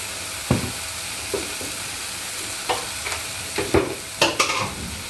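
Pointed gourd frying in ghee with turmeric, cumin and coriander: a steady close sizzle broken by several scraping stirs of a spoon in the pan, with no voices.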